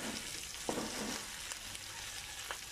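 Chicken adobo frying in a pan until golden brown, a steady close sizzle with faint crackles and a few soft stirring clicks, no talk.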